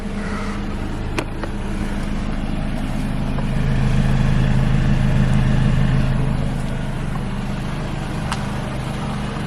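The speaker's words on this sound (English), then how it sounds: "But you could hear the engine. Everything runs smooth, sounds smooth." A 2016 Toyota RAV4 with about 115,000 miles runs with a steady, low engine hum, close and moderately loud, swelling slightly midway before settling back to an even idle-like drone.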